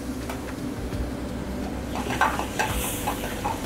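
White wine sizzling and reducing in a hot pan while scallops cook, a steady close hiss with light stirring and a few clinks of utensil against pan, no talking.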